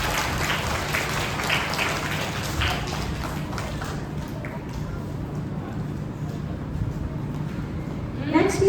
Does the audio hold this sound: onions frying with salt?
no